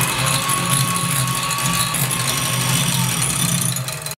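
An electric mixer whirs steadily, beating egg whites with cream of tartar and meringue powder for chocolate French macarons, a continuous close mechanical drone that cuts off abruptly at the end.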